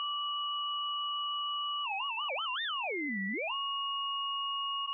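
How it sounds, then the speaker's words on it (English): Two pure sine tones from an FM synthesizer in ring modulation, holding steady, then wobbling and swooping down and back up before settling on the same pitches; clean, electronic and alone. "Now we're just doing this with sine waves,"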